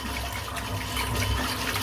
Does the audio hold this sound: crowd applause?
no